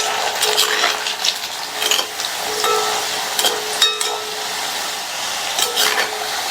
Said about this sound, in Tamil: அது வரைக்கும் எண்ணெயிலேயே ஃப்ரை பண்ணிக்கலாம்.